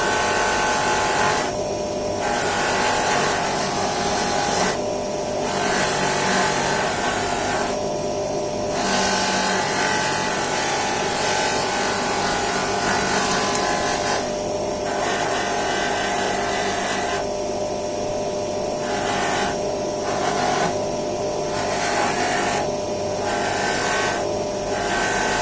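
An abrasive Scotch-Brite wheel on a bench spins continuously against a bolt from a 1980 Yamaha XJ650 motorcycle engine, giving a steady, loud rubbing whir with repeated short pauses and shifts in pressure.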